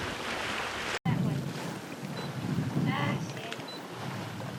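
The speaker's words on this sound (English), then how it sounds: "Boat carving through deep water," Water rushes and swishes past the hull of a wind-powered sailboat carving through deep water in a steady wash, with a brief dropout near the start and light creaks.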